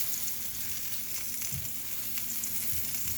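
Potato slices sizzling in a hot pan as they are turned, a quiet, continuous frying hiss with faint scattered taps and crackles.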